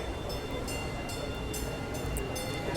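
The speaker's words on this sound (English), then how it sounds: "So we're taking the E train today." A New York subway E train rumbles steadily along the tracks, with repeated high clattering bursts over a constant low roar and no talking.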